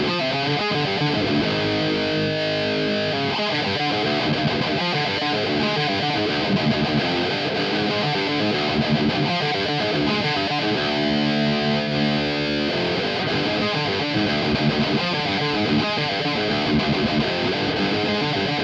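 Heavily distorted electric guitar riffing through a Quad Cortex capture of a Marshall DSL or JCM 800 amp, chasing a particular guitarist's tone, loud and continuous with chugging palm-muted passages and no voices.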